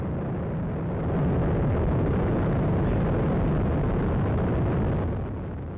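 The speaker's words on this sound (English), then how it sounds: "liftoff of the United Launch Alliance Atlas V rocket" A United Launch Alliance Atlas V rocket lifts off carrying a space-based infrared satellite for the US Air Force, heard as a loud, continuous broadband roar that swells after a second and holds steady before easing slightly at the end.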